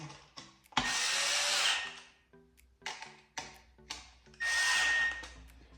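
A power drill drives screws while a ceiling fan is installed, running in two sustained loud whirring bursts. Short clicks and brief motor blips from the tool fall between them.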